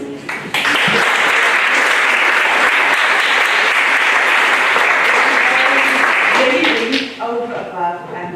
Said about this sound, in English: I would like us to give the staff of Caledon a big round of applause.